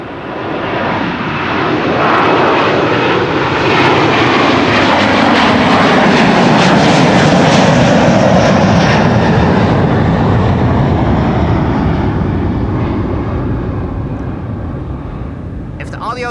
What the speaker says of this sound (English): here we have KLM flight 627, an auditory litmus test, an A300.